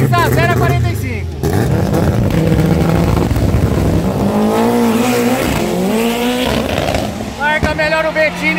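Race cars, among them a Gol 4x4, roaring down a drag strip in Cascavel, loud engines revving and whining with tire squeal, under fast, excited commentary.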